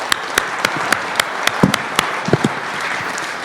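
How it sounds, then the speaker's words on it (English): An audience at an agricultural soybean summit applauds a producer panel, with a spread of individual claps ringing out over a soft, steady patter, moderately loud and continuous. "Let's give them a round of applause."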